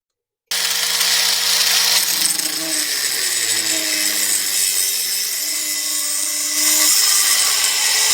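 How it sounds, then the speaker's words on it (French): Power tool cutting a 7 cm length of tube for a stone marten trap mount, a loud sustained whining grind that starts abruptly after brief silence, with pitch sliding as the blade bites, nearby and alone. "je vais couper un morceau de tube de 7 cm"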